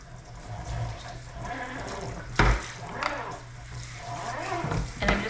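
Running water from a kitchen sink tap splashes steadily while something is rinsed, with a continuous close hiss and a few louder splashes and clatters.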